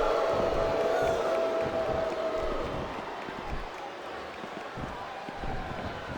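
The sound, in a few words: crowd cheering in WWE SmackDown vs. RAW video game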